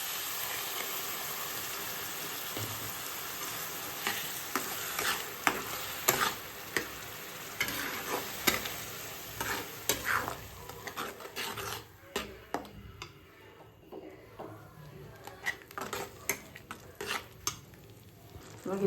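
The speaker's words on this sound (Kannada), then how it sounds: "ಟೊಮೆಟೊ ಪ್ಯೂರಿ ಆ್ಯಡ್ ಮಾಡ್ಕೊಳ್ತೀನಿ." Tomato puree goes into a hot pan and fries with a dense sizzle. Steady rasping strokes of a spatula stir and scrape it, and the sizzle quiets later as the scraping continues. No talking is heard.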